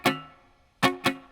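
Three dry, percussive guitar scratch strums with the fretting hand released so the strings are muted. There is a single hit, a pause, then two quick hits close together, loud and near, with no talk.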